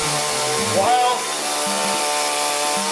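A live running chainsaw drones loudly and continuously with a steady buzzing whine, rising briefly in pitch partway through. A voice speaks over it.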